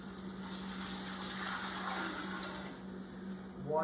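Water and broth pour steadily into a cooking pot for tortellini in brodo, a continuous soft gushing splash that fills the stretch at low volume without speech.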